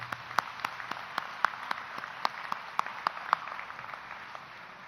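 An audience applauds at a 2016 osteopathic medicine and graduate school commencement ceremony, with scattered, moderately distant claps sounding steadily throughout.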